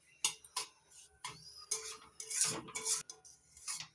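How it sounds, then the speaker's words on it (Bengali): Semolina frying in a pan while being stirred, heard as quiet irregular scrapes and clinks of a utensil against metal, close up with short bursts and pauses. "খেয়াল রাখতে হবে সুজিটা যেন পুড়ে না যায়"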